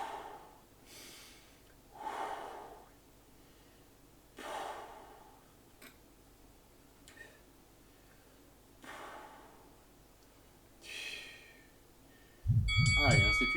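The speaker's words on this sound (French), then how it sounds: "J'inspire." During a bodyweight exercise session, a person breathes deeply about half a dozen times in slow, close, airy bursts spaced a couple of seconds apart, followed by a sudden loud thump at the end.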